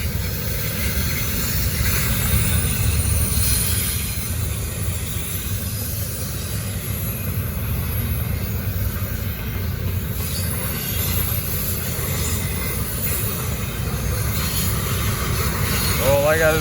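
A Norfolk Southern train rolls past on the Charlotte District in downtown Gaffney, a loud continuous rumble of wagons on rails with faint wheel squeal toward the end.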